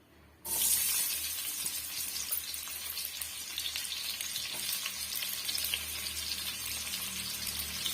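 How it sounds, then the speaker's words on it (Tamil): Onions dropped into hot oil in a kadai, a sudden loud sizzle bursting in after a quiet start and then holding as a steady close crackle, no talking. "இப்ப நம்ம மீதமா எடுத்து வச்சிருக்க வெங்காயத்தையும் சேர்த்துக்கலாம்"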